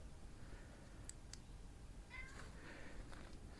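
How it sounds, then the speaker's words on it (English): A cat in a workshop where a Massey Ferguson 1800 tractor is being worked on gives a couple of faint, short meows, quiet and somewhat distant over a low background hum. "Goofy cat."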